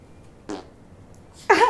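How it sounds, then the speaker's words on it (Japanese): A twelve-day-old newborn baby farts, first with a short soft puff and then with a louder, longer, sputtering one, close up in a quiet room. "捉えちゃった、おならの瞬間。"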